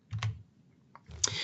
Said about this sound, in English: I see you typing.